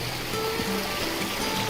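A creek swollen by recent rain, in the mountains on the way to Kings Peak, rushes in a steady, loud broadband wash with no voices.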